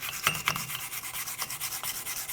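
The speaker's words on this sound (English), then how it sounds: "I'm just going to go in with a wire brush and clean it up" A wire brush scrubs the ridge of a truck wheel hub on a 2007-2014 Chevrolet Silverado 2500 HD, giving close, steady back-and-forth rasping strokes with a few sharper scrapes early on.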